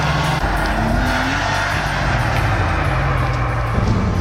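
Porsche 993 911 Carrera 2 being driven, its engine droning steadily from inside the cabin with pitch rising through the gears and a shift partway through, alongside constant road and wind roar.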